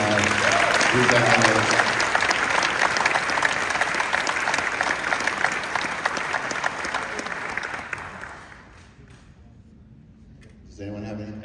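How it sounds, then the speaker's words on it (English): Audience applause at a convention panel honoring George, a Michael Myers mask performer: dense, loud clapping from a crowd for about eight seconds, then fading to a quiet murmur before a voice speaks. "let's just give her a quick round of applause for George"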